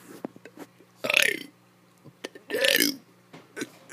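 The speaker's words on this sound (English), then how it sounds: "I have a burp charging, so let's make it a little bit longer" A child burps twice, two long rumbling belches up close separated by a pause, with small clicks and breaths between them.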